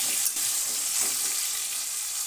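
Potatoes seasoned with salt and turmeric sizzle steadily in hot oil, with a few scraping stirs of a spatula through a continuous bright frying hiss, close and alone.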